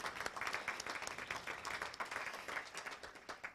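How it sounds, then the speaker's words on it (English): Audience at an outdoor groundbreaking ceremony breaking into sustained applause, many hands clapping steadily at moderate distance for several seconds with no voices over it. "let's give you all a round of applause."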